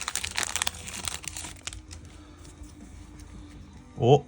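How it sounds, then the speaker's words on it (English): Magic: The Gathering booster packs for Tarkir Dragonstorm are ripped open, their foil wrappers crinkling and tearing in a busy burst at the start, then settling into quieter rustling, with a brief voice near the end. "Just gonna keep ripping them open."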